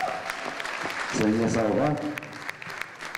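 An audience claps steadily throughout a celebration event in the Karachay language. Someone speaks briefly into a microphone over the applause.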